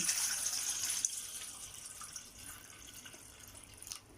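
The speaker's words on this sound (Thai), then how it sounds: "กระมังใส่น้ำนะคะ แล้วก็เทน้ำลงไปเลย" Water poured into a basin for soaking sliced banana blossom, a steady soft splashing stream that thins and quiets over a few seconds, close by with no talk.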